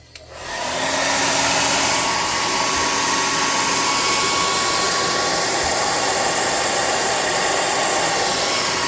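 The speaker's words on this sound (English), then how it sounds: "Let's get our friend, the +5 hot air gun, burning. And dry these off" A hot air gun starts up and then blows steadily and loudly at close range while drying painted tabletop terrain, a constant whooshing roar with no talking.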